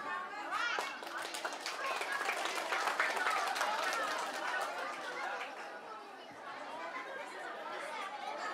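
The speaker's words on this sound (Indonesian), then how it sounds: "Ya, tepuk tangan." An audience at a school Islamic cabaret marking Maulid Nabi at Yayasan DTQA Katapang claps in scattered bursts amid loud, continuous crowd chatter and children's voices.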